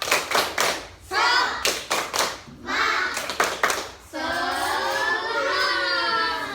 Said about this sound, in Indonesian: Beri tepuk tangan untuk kelompok 3. Semangat? Semangat dulu. Tepuk semangat.